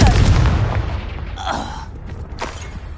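A Confringo spell blast in the Hogwarts Legacy video game, a loud booming burst at the start that decays into a rumbling tail, followed by a couple of fainter crackling impacts.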